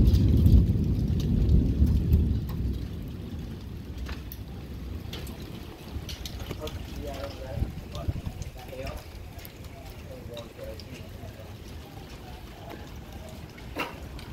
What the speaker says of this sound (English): We're getting pea to quarter size hail.